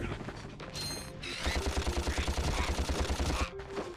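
Blaster weapon from the Ratchet and Clank video game fires a rapid, rhythmic burst of evenly spaced shots for about two seconds amid game music and effects.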